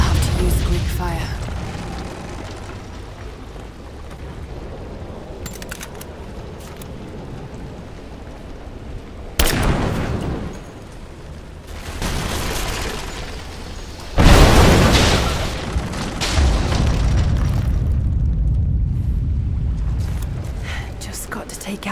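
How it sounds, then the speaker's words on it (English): Greek fire vessel exploding against a statue's supports in Rise of the Tomb Raider, two loud broadband booms around mid-clip followed by rumbling debris and crackle over a steady ambient wash, with no speech. "Looks like I'll have to use Greek fire."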